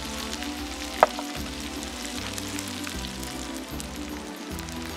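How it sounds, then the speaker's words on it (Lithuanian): Onions fry in hot meat fat for a Georgian chorciani dish, giving a steady, close, dense sizzle and crackle that holds evenly throughout, with one brief sharp clink near the start. "Nemažindami kaitros, į tos pačius riebalus suplom svogūnus."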